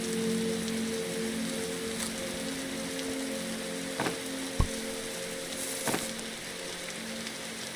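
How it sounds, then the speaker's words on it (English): Rain in the Roblox survival game 99 Nights in the Forest, a steady hissing downpour with a faint background hum and a few brief clicks and thumps on top. "It's raining again."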